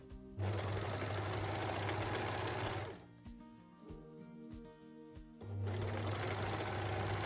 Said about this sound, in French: On va faire une première couture à 16 cm